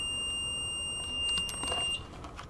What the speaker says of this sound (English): the repod device starts beeping rapidly